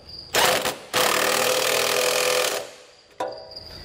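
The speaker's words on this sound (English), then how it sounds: "we'll come back with a 19 millimeter socket," An impact tool rattles in short close bursts while tightening trailer hitch bolts with a 19 millimeter socket on a 2020 BMW X1, with a brief pause between bursts.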